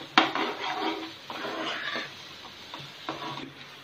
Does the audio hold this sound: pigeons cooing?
no